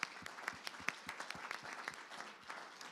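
A conference audience applauds panelists, with a dense run of many hands clapping at a moderate distance, fairly quiet and sustained throughout.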